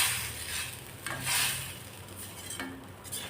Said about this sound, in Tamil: நமக்கு இப்போ இது நல்லா கொதிக்குது